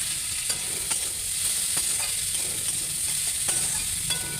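Cauliflower stems dropped into hot oil already seasoned with panch phoron give off a steady, close, dense sizzle, with light scraping clicks from stirring and no voices.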